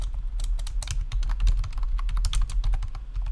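Rapid, steady clatter of keys on a computer keyboard, close and fairly loud, with no voices over it.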